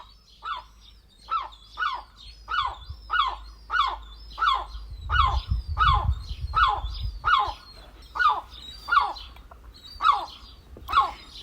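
Gull chicks, recently adopted baby gulls in a garden in Peel, give repeated shrill begging calls at feeding time, a steady rhythmic series of near, loud cries with low rumbling background noise partway through.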